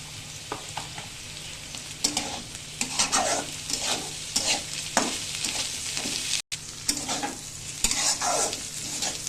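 Rice with chopped green chilies frying in a pan for a breakfast rice roast, a steady close sizzle broken by repeated scraping strokes of a spatula in an irregular rhythm, with one brief dropout near the end.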